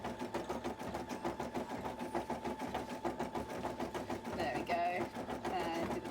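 A home embroidery machine stitching details on a cosplay piece, with a fast, regular mechanical chatter running steadily throughout and louder clicking near the end, under a person talking.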